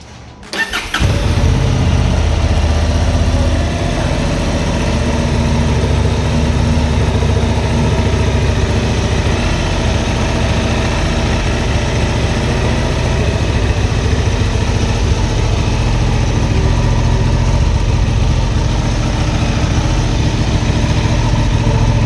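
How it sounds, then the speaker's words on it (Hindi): A Honda CB Hornet 750 with a parallel twin engine starts and settles into a loud, steady idle, its exhaust burbling close up and continuously for about twenty seconds with no voices. "सो सबसे पहले हम इस बाइक का एग्जॉस्ट नोट"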